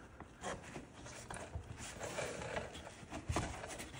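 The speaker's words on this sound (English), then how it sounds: "Lock my trim lock in." A trim lock is pressed and clicked into place along the hemmed edge of canvas on an ice-fishing shanty, giving a few close, soft clicks and scraping rustles of fabric, quiet and uneven.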